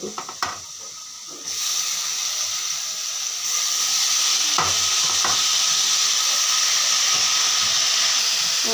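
Browned potatoes frying in a pan as squash is added: a loud, continuous sizzle and hiss swells in two steps and then holds steady, with occasional stirring knocks close by.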